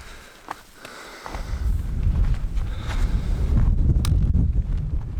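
Strong wind roars and buffets the microphone in fog on a mountain hiking trail in Corsica, a low rumbling gust that builds after a brief quieter moment with a sniff, loud and close.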